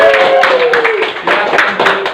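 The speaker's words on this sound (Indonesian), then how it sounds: "Oke, tepuk tangan." Brief scattered clapping from a small group of students in a classroom, mixed with voices talking over it.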